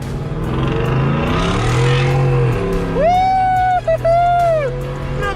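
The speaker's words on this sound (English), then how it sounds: "Tire spin there, got the tires to spin." A Ford F150 FlexFuel truck running on E85 accelerates hard with its tires spinning. The loud, close engine roar climbs in pitch, briefly drops, then surges again into a sustained high whine.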